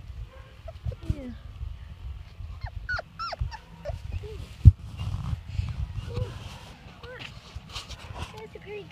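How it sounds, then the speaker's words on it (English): Four-week-old puppies whimpering and squeaking on a lawn in thin high cries scattered throughout, while a person talks softly to them over low rustling handling noise. "Hey, puppy, puppy. Hi, puppy, puppy."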